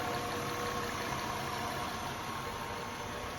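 A 1995 Acura Legend LS with a 6-speed, suffering a white-smoke issue, idles steadily with a constant, even engine rumble and slight vibration, close up and unbroken for the whole stretch.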